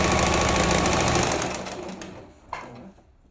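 Sewing machine stitching a fabric strip onto palazzo trousers, a loud steady rapid whir at first that slows and fades, with a short burst near the end.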